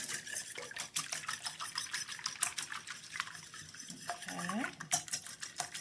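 Three eggs whisked in a large bowl, with steady rapid clinks of a utensil against the bowl running throughout; one brief word is spoken.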